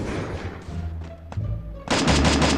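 Free Fire battle royale gunfire: a loud burst of rapid automatic shots erupts near the end, following quieter game sounds and a few scattered shots earlier.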